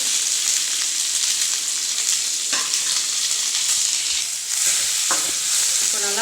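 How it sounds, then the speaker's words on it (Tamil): Onion and green chillies sauté in a hot pan for a green chilli sambar, a steady loud sizzle with occasional scraping stirs of a spoon, close up and with no talking. "இப்போ நல்லா ஃபுல்லாக வதக்கிக்கலாம் ஃப்ரெண்ட்ஸ்"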